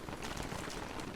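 Steady rain falls in the survival game Don't Starve Together, a dense, even hiss of patter filling the short stretch without a break.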